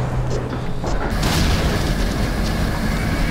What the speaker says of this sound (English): It sounds like a thunderstorm. More like an explosion.